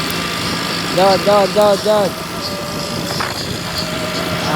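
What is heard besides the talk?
tractor engine while driving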